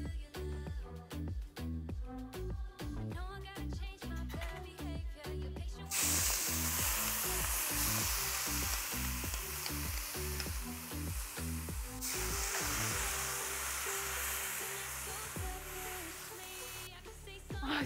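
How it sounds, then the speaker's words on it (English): Ground beef bulgogi stir-fries in a hot oiled wok. A burst of rhythmic, tonal knocking gives way to a loud, steady sizzle that carries on to the end. "Keep stir frying the bulgogi and break down the meat as the size that you prefer"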